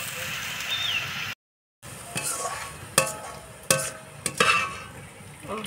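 Masala paste with turmeric and salt fries in a separate kadai: a steady close sizzle with intermittent spatula scrapes and clinks, briefly cut to silence, and a faint voice in the background.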